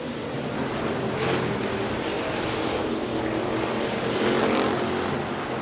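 Race cars roaring through a heat race at Rapid Speedway, a steady wash of engine noise with rising and falling passes as cars sweep by, fairly distant and continuous.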